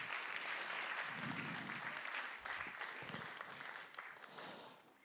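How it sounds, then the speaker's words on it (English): Audience applause fills a gathering, a dense steady wash of many hands clapping at moderate loudness that thins slightly toward the end. "Give them a round of applause."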